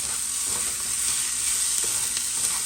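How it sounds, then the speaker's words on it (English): Onions tossed and sizzling in a hot pan while cheesy slider burger patties cook, a steady close frying hiss filling the whole moment with faint stirring scrapes and no talking. "I'll toss the onions around, and we're ready for the onions"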